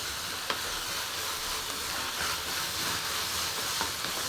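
Aubergines roast for bharit with a steady, bright hiss and crackle, broken by a couple of small pops, heard up close with no talking.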